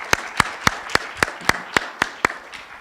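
An audience at a law and transparency conference gives a welcoming round of applause to a speaker, heard as a steady run of about nine sharp, evenly spaced claps at moderate volume.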